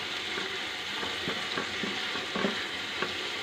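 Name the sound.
frying spice masala for chole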